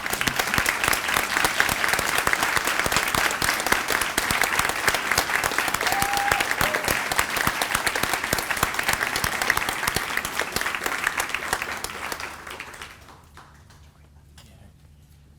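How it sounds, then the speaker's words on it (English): A school assembly audience applauds students at a moving-up ceremony, dense steady clapping that carries on for about twelve seconds before fading to a quiet room. "let's please give them a round of applause."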